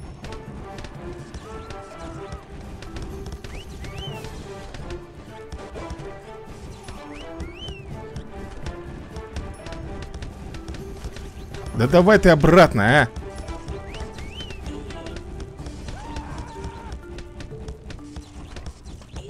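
A creature in the video game Cursed Treasure 2 lets out a loud, horse-like neigh over galloping game sounds, while someone talks over the action.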